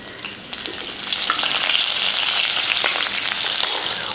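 Cumin seeds and curry leaves frying in hot oil, crackling and sizzling steadily and loudly from close by, with the spatter building after the first second and no voices.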